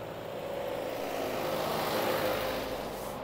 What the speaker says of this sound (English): We will let this truck go by.